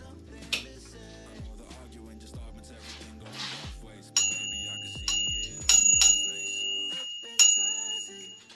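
A bicycle bell being fitted to a bike's handlebars rings out in several bright, sharp dings with lingering ringing tails, spaced irregularly over a background of tinkling musical notes.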